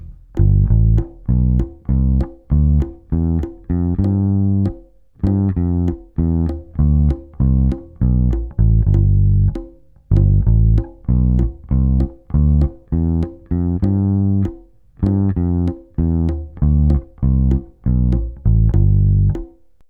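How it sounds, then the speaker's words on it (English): Short, clipped staccato bass guitar notes play syncopated rhythmic groups, each note cut off sharply with small gaps of silence between phrases. "Often with syncopations, it sounds cool to actually play them a little more staccato."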